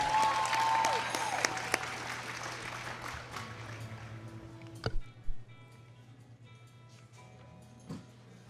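Audience applause at a Thoroughbred horse show freestyle finale, a loud ripple of clapping from a crowd that gradually fades to sparse, distant claps over a low steady hum.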